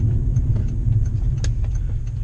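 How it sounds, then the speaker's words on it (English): A Volkswagen W8 engine, 4-liter with eight cylinders, a six-speed gearbox and a Remus exhaust, pulls with a smooth, steady low rumble heard from inside the car, with a few faint clicks and rattles over the drone. "Now this is a 4-liter V8 engine"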